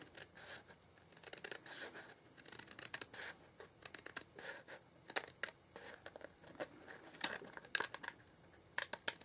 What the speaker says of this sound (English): take my scissors, cut up my score line